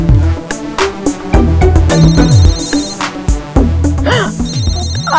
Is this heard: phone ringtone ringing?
yes